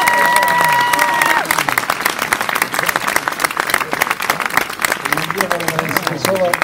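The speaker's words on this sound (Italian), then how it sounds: "Un applauso più lungo per il signore." Sustained applause from a large audience at a public gathering in Riace, Italy, dense clapping throughout with a brief tone at the start and some voices mixed in.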